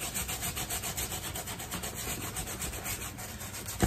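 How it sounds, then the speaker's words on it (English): A brass brush scrubs the lower spots and channels of a pair of Hoka shoes, a steady rapid back-and-forth rubbing that carries on without pause, close up and fairly loud with no talking. "So I'm gonna scrub these lower spots."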